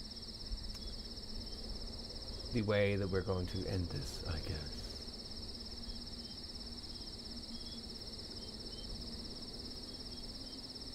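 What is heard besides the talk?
crickets chirping in the video game Road 96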